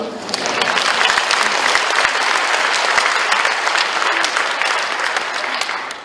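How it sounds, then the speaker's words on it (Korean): Sustained applause from a large audience at a workplace Christian mission gathering, a dense steady wash of clapping lasting several seconds without pause, loud and close, with no talk over it. "여러분들이 치신 박수 하나님이 받으신 거죠"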